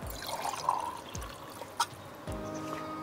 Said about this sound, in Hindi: हम इसको निकाल लेते हैं एक आधे वाले गिलास में, ताकि हम विनीत भाई को भी टेस्ट करा सकें